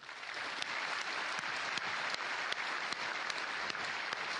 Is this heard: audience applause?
yes